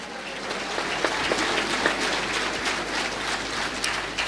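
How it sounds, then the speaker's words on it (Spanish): A church congregation claps steadily and loudly for several seconds, a dense, continuous burst of applause filling a large room. "Fuerte aplausos, Iglesia de Cristo."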